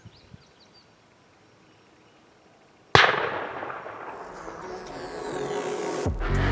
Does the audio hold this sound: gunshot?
yes